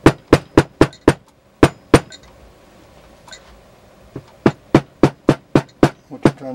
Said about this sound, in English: you need a good cobbler's hammer if you can